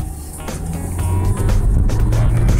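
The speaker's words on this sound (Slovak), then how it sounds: "Šlapnutý plný plyn" A Renault Mégane Grandtour III with the 1.5 dCi diesel accelerates at full throttle, its engine drone rising in loudness and staying strong and close throughout.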